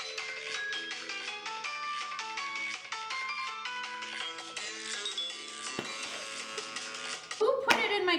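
A phone plays a melodic ringtone, a run of repeating chime-like tones looping steadily for several seconds, with a clatter and rustle near the end.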